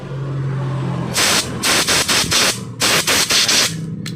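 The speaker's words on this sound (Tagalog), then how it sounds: "spray lang katapat dyan" Repeated short hissing bursts of aerosol cleaner sprayed onto a Honda motorcycle's fuel injector, about eight close, loud spurts in quick rhythm, with a low idle hum between them.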